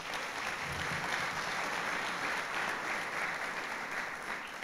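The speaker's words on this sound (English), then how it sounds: "Big round of applause." An audience at a guide dog graduation ceremony gives a sustained round of applause, a steady even wash of clapping heard alone.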